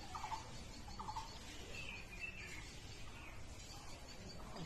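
Birds, likely bulbuls nesting in a red rose apple tree, give a few faint, brief chirps near the start amid steady outdoor background hiss.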